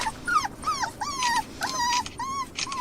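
A skinny, Rottweiler-like dog kept on a heavy chain whines and whimpers in a series of short, rising and falling cries, close by and alone with no talking.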